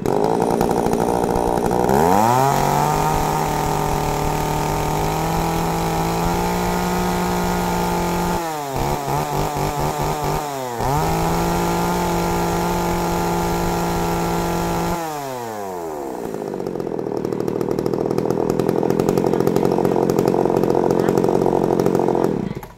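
A Japanese chainsaw engine runs loudly and steadily, briefly dropping off twice before revving back up, then settling into a rougher idle.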